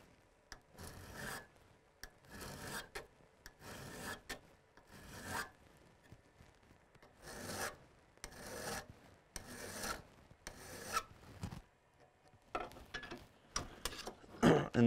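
A metal file rasps in slow, steady strokes along the bevel of a crampon's front points, each pass a distinct scraping burst separated by short pauses, close and clear with no talking.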